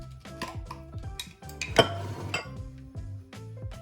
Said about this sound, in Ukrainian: Розколочу це все.